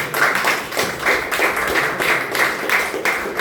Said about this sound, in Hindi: उनके लिए मैं चाहूँगा जोरदार तालियां हो जाए